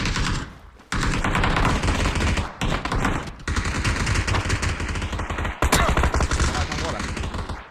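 Rapid gunfire in a video game comes as dense, loud bursts of automatic shots with brief gaps between them. Faint voices sit under the shooting.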